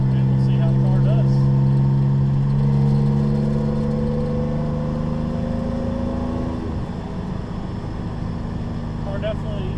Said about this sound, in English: Car definitely feels like the turbo comes on a lot quicker and a lot smoother than it did before.